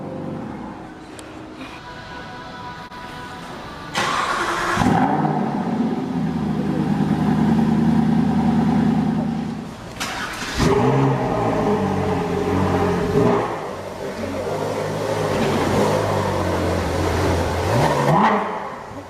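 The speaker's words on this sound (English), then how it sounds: "So what you are looking at is my first ever supercar startup compilation" A supercar's engine starts with a sharp burst after a quiet stretch, then revs loudly and holds. It drops back briefly, is blipped again, and settles into a strong, close idle.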